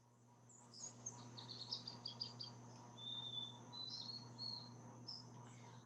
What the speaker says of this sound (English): whoever's got the bird in the background